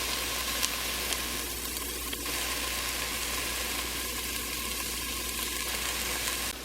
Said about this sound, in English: the onions have been cooking for a few minutes, and they are starting to get clear, translucent, get soft